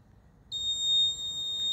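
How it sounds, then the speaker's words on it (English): A steady high-pitched electronic buzzer tone from a rain sensor module, triggered by water on the sensor, starts abruptly and sounds continuously, fairly faint, over quiet background. "Look, a buzzer is blowing and a light is glowing."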